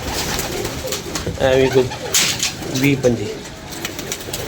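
A flock of about fifty to sixty pigeons coos close by, short rounded calls rising and falling in bursts while someone talks over them.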